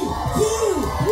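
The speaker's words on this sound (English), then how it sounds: "Please give him a big round of applause." Festival crowd at a chilli eating contest cheers and whoops, short rising shouts and yells close by in a brief lively burst.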